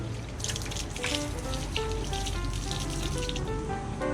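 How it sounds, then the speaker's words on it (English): Water runs and trickles steadily from a garden hose, splashing lightly close by with small irregular drips and gurgles as hands are rinsed. "I'm going to rinse my hands off here a little bit with a hose"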